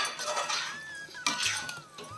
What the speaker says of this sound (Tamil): அதையும் போட்டு நல்லா வதக்கிடலாம்